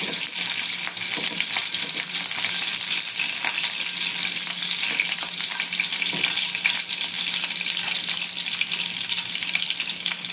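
Green chillies fry in a pan of oil for sabudana khichdi, giving a steady, close, even hiss of sizzling that runs throughout, with faint stirring scrapes and no talk.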